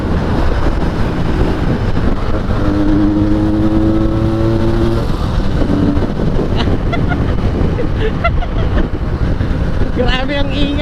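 Benelli 302S motorcycle on its stock exhaust pipe, revving and pulling during a test ride, a loud steady engine drone with wind rush, rising revs and someone talking excitedly over it.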